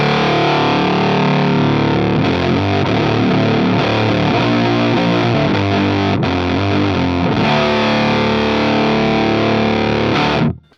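An electric guitar runs through a Behringer Super Fuzz SF300 pedal on fuzz mode 1 with gain at twelve o'clock into a Vox AC15 amp, producing thick, buzzy, saturated chords that sustain loudly for about ten seconds before stopping.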